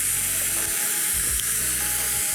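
Lamb chops searing in a hot pan, a bright, steady sizzle and crackle hissing close up, with a few low clunks of the pan or meat being shifted, no talk.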